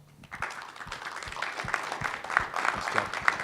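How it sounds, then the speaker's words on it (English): A conference audience at DrupalCon in Nashville breaks into applause, the clapping starting softly and building into a fuller, moderately loud patter with a few sharp individual claps over several seconds. "Let's give these guys a round of applause."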